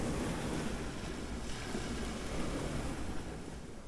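Waves wash steadily onto Noi Beach, a small sandy-gravel beach between rocky headlands near Hua Hin, Thailand. The surf is broad and continuous, with heavy wind buffeting the microphone and no voices.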